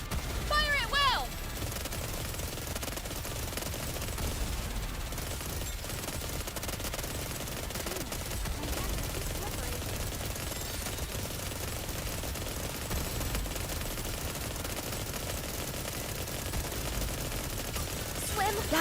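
Gunfire in the video game Nikke: dense, continuous bursts of rapid shots fill the whole stretch, loud and unbroken, with a brief voice near the start.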